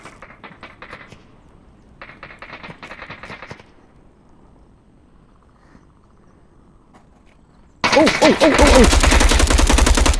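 Bursts of rapid gunfire in the VR shooter Onward on Meta Quest 2, a few close volleys early on, then a much louder sustained rattle of shots near the end, with a brief exclaimed voice.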